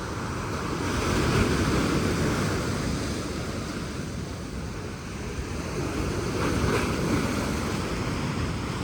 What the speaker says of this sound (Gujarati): મોજા બહુ જોરમાં આવતા